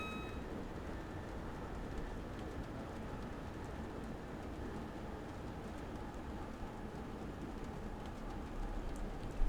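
A Class 321 electric train in Train Simulator runs along with a steady low rumble and hiss of motion under braking, unchanging and moderately quiet throughout, with no voices.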